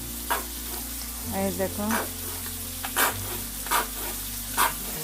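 Chopped onion and a spoonful of ketchup fry in a pan on the stove for bhindi masala, giving a steady sizzle broken by scraping stirs, and a voice speaks briefly.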